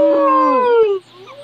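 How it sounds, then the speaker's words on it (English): A wolf howl from the online game The Wolf online simulator: one long, loud tonal howl rising and bending downward over about a second, close and clear, then fading into quiet. "I howl."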